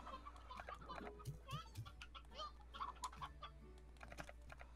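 Hens in the Slime Rancher video game cluck in a few soft bursts among busy game effects, keyboard clicks and a steady low hum, all fairly faint.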